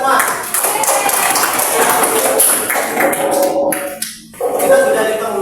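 A crowd claps steadily, a dense burst of applause that briefly dips before picking up again, with voices mixed in.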